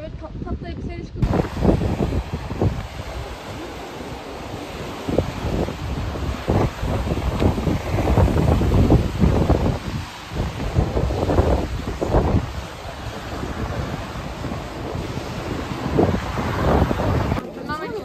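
Wind gusting at Mostar Bridge in Bosnia and Herzegovina, a steady rough roar of buffeting across the microphone for most of the recording, loud and continuous with broadband rumble.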